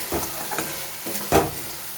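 Chopped medium tomatoes hit hot spiced masala in a pan for chickpea ghugni, giving a soft steady sizzle and a few bursts of hissing as they are stirred in.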